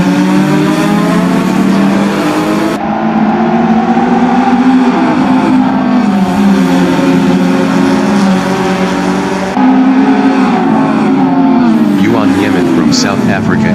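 Group N race cars roar off the line at a race start, engines revving hard in a loud, steady drone with rising pitch sweeps as they accelerate, while a commentator talks over them.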